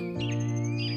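A parrot chirp used as a story sound effect: one bright, tonal call lasting about a second, loud and close, with nothing else behind it.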